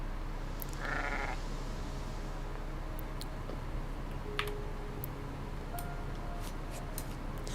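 A sheep bleats once, briefly and fairly softly, in the video game Aloft, over a constant low background hum with faint clicks that sound like keyboard typing.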